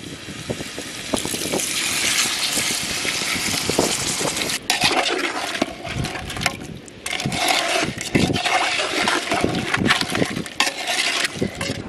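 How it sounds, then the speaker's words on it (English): Water poured into a pot of crab curry cooking outdoors on a beach, a steady broadband pouring and splashing with scraping and clattering, sustained and fairly loud throughout. "add some water"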